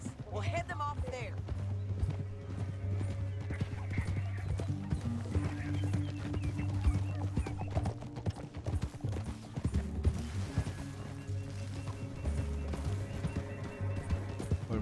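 Horses galloping across Wild West terrain in Red Dead Redemption 2, with steady, close clip-clopping hooves and a whinny at the start. A rumbling game soundscape runs underneath throughout.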